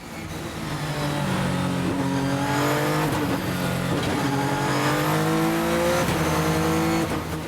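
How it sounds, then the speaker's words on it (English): Sébastien Loeb's Pikes Peak race car, running slicks, heavy downforce and a big engine, accelerates hard through the gears on the mountain road, its engine note climbing and dropping with quick shifts, loud and close throughout without speech. "This car is closer from a racing car than from a rally car because you have big slicks, you have a lot of downforce, big engine."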